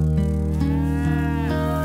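A cow lows on a farm in a single long, loud, resonant moo that wavers in pitch and fills the whole moment without any voices.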